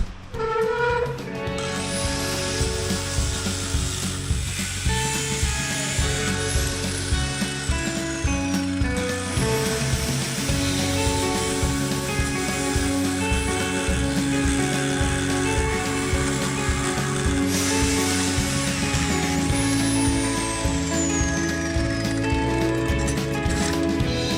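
A power tool grinds steadily at a junkyard axle housing being trimmed back for a ring gear, a loud continuous whine with a strong tonal hum and occasional rising and falling pitch sweeps, running without pause throughout.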